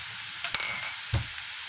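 Onion frying in a pan while being stirred for a minced-meat and potato gratin, a soft steady sizzle with two brief scraping stirs, close and alone without talk.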